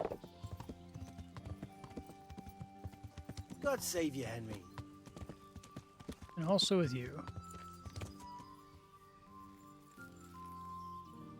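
Horse hooves clip-clop in the medieval video game Kingdom Come: Deliverance, soft and intermittent, with a horse whinnying and characters speaking over the quiet game audio.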